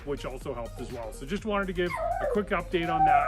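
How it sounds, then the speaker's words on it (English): A dog yips and whimpers in the background in short, high, uneven cries beside a camping trailer, heard steadily beneath a man's close, continuous talking. "That's our dog in the background."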